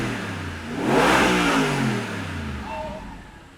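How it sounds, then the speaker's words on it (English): V8 engine of a 2014 Audi R8 Spyder with S tronic gearbox revs up close by, swelling to a loud roar then easing back to a steady throaty drone, with no talk over it. "That sound from the V8 is great."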